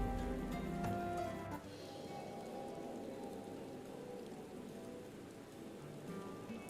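Steady rain falls in Final Fantasy XIV, a dense, even hiss of drops on surfaces that holds throughout, with a slightly louder patch at the very start and no voices.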